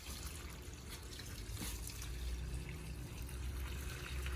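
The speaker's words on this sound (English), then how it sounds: "I've got a hose with water coming out into a bucket" Water pours from a hose into a bucket, a continuous splashing and gurgling stream that stays steady and fairly close throughout, with no voices.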